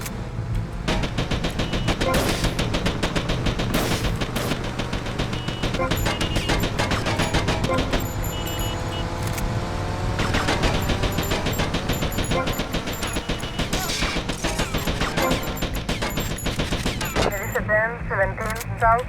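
Uzi submachine gun spraying in the GTA Tightened Vice mod of a video game: dense, rapid bursts of loud gunfire crackle almost nonstop for the whole stretch, layered over a busy game mix with tonal background sounds and possible voices.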